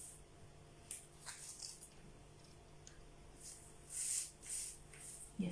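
Fabric for a dress pattern being cut with scissors, a series of soft, close snipping and slicing strokes in uneven bursts, growing louder toward the end, with no talking.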